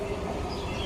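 A train pulling into a railway platform, heard as a steady low rumble of rolling wagons that stays loud and even through the brief moment, with no talk over it.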